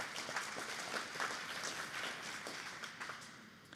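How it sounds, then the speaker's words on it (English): Audience applause at a community gathering on treaty land sharing, a faint, steady patter of many hands clapping at a distance that tapers off slightly toward the end. "Another round of applause, please."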